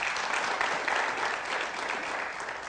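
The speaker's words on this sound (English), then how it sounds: "Please, a round of applause for our guest." An audience gives the guest a round of applause after a hygiene talk, a steady, dense clapping crowd, moderately loud and continuous throughout.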